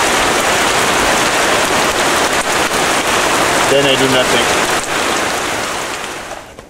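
Heavy rain drums steadily and loudly on a waterproof shelter roof on a remote Pacific island, a dense unbroken hiss throughout, with a brief spoken line midway before the rain slowly fades at the end.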